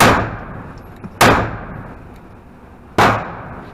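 Two sharp, loud gunshots about two seconds apart, each with a short ringing tail, from an M&P 9 Shield Plus pistol firing self-defense rounds at a shooting range.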